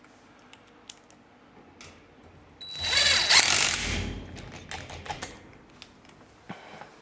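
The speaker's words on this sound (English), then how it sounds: "having an impact wrench is super handy, especially with this project" Impact wrench driving bolts on a FlexiMounts 4x8 garage ceiling storage rack, one loud burst of about a second and a half between scattered clicks and taps of handling, with no talking.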